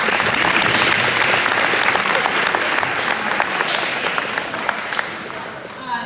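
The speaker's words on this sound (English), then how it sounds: "round of applause" A school sports banquet crowd gives a sustained round of applause, dense steady clapping filling the room for several seconds before tapering slightly at the end.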